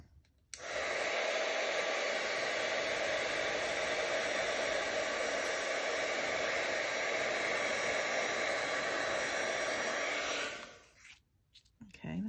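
A hair dryer blows on glue holding pressed flowers. Its loud, steady whooshing roar runs for about ten seconds, then cuts off and leaves near silence.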